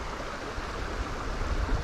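Fast-flowing river water on the Water of Leith, a continuous dense rushing wash, loud and close, with no voices.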